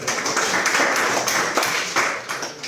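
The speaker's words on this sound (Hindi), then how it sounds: "गुड ताली दियो" An audience claps for a few seconds, the dense, steady applause filling the room at a fairly loud level without a pause.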